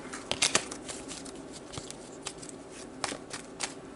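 Slick tarot cards being shuffled by hand, soft irregular riffles and flicks with a few sharper snaps, close and quiet with no talking.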